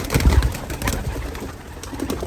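Racing pigeons cooing and fluttering inside a loft, close and fairly loud, with soft throaty calls layered over rustling movement for a couple of seconds.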